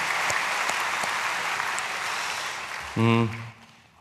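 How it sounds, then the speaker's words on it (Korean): A church congregation applauds during a Saturday dawn worship service, a moderate, steady patter of clapping that carries on alone, ending as a voice begins to speak. "우리 박수로 축복하겠습니다"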